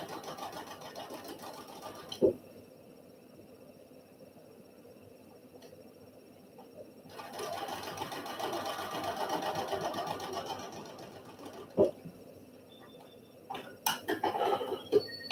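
A sewing machine stitches quilt pieces in a sustained whirring run of several seconds, with quieter stretches, a few sharp clicks and a short final burst of stitching.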